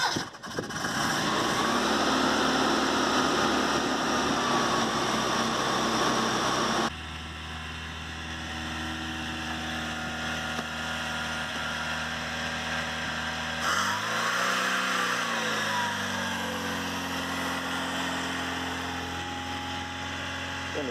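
A 1994 Mitsubishi Triton engine running rich, a steady mechanical drone with a broadband hiss that drops in level partway through and then settles into an uneven idle with a brief dip in pitch.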